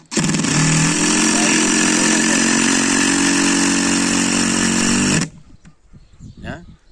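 A cordless impact driver sinks a screw into wood, a loud continuous mechanical whir with rapid hammering that runs steadily for about five seconds before cutting off abruptly, followed by quieter handling noise.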